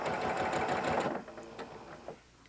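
A sewing machine stitches jelly roll quilt strips together in a steady, close, rapid whir for about a second, then slows and stops, leaving faint handling sounds.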